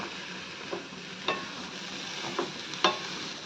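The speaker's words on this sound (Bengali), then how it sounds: "খুব ভালো করে নাড়িয়ে চাড়িয়ে মিশিয়ে নেওয়া হচ্ছে নারকেল কোড়াটা।" Grated coconut being stirred with melted date palm jaggery in a pan, giving a low steady hiss with several soft scraping strokes, fairly quiet and with no voices.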